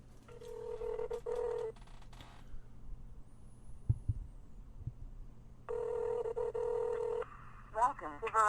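Cell phone keypad tones as a number is dialed with star 67 blocking, short beeping bursts in two clusters with a quiet gap between, close and clear, followed by faint rising chirps at the end.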